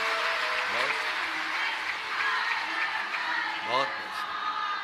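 An audience at a Shiv Mahapuran katha claps in a steady, sustained wave of applause, while a voice speaks over it intermittently.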